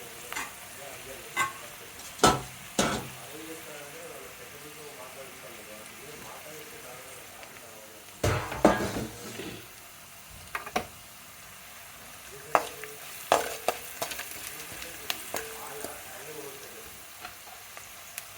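Sabudana khichdi frying and being stirred in a pan, with a low steady sizzle and intermittent louder scraping stirs. A person talks over parts of it.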